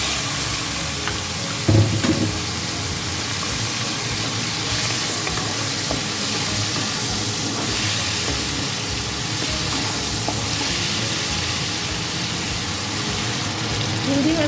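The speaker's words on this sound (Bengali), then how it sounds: "এই তেলের মধ্যে আমি চিংড়ি মাছটা ভেজে নিচ্ছি" Prawns fry in hot oil, a dense, steady sizzle and hiss close by that runs throughout, with a brief clatter near the start and a voice occasionally underneath.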